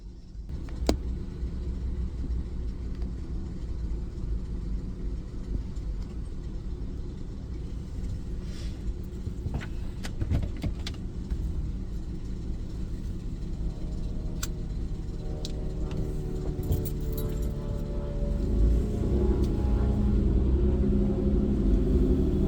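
A car driving along, a steady low engine and road rumble inside the cabin with small ticks and clicks, growing slightly louder near the end, no talk.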